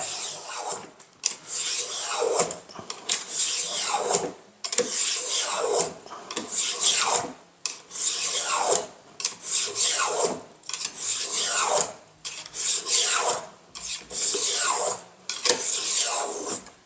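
A rasp files shavings off a wooden chopstick in steady rhythmic strokes, about a dozen close, loud scraping passes separated by short pauses, with no talking.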